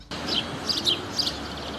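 Small birds at a garden bird sanctuary chirp in short, high tweets over a steady outdoor hiss, a few scattered calls over a second or two.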